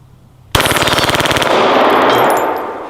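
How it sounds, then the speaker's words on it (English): A full-auto Glock pistol fitted with a switch fires one extremely rapid burst of shots lasting about a second, loud and close, followed by a lingering roar and echo. "Glock, the coolest one anybody could ever imagine. Full auto."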